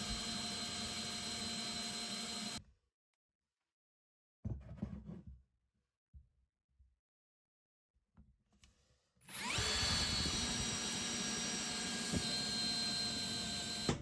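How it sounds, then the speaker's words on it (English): A power drill whines loudly as a spade bit bores through a block of firewood, stops, then a second steady burst of drilling follows after a quiet gap with faint knocks. "Using a spade bit, I drill through both sides of the block"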